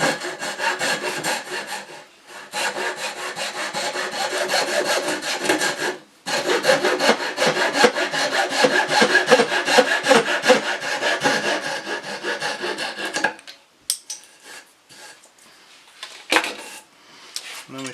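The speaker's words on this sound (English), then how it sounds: "And then I'm going to cut this off first." Wood being hand-sawn for a patio chair build, steady rasping strokes running loud and close with a short pause around six seconds, then fading into quieter scraping and handling noises near the end.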